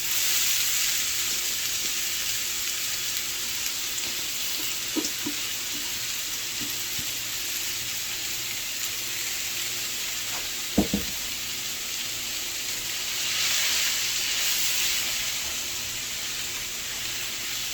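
Spinach cooks in a hot pan where steak was seared, giving a steady, fairly loud sizzle and hiss that swells briefly near the end, with a couple of faint knocks and a clink of the pan and no talk.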